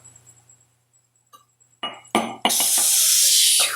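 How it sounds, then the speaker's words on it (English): Glass breaking inside a house during a home intrusion: a few sharp clinks and knocks, then a loud sustained shattering crash close by that lasts over a second, with no talk over it. "Glass breaking."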